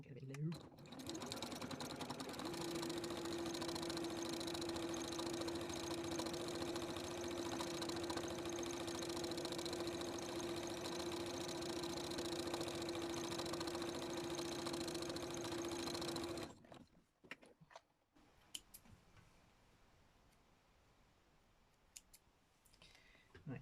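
Sewing machine stitching felt runs loud and steady with a sustained motor whine and rapid needle clatter, then stops abruptly, leaving quiet handling noises afterward.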